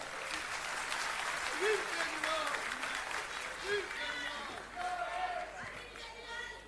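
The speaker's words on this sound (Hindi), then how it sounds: "एक बार जोरदार तालियां।" Steady applause from a crowd at a political speech event, a dense continuous clatter of clapping with background voices mixed in, fairly loud and sustained throughout.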